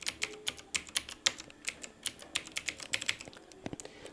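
Quick, irregular clicks of a computer keyboard as a command is typed on a server, with close, fairly faint keystrokes and no talk.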